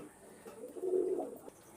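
A single pigeon coos once, a brief throaty rolling call close by, against a quiet, low background.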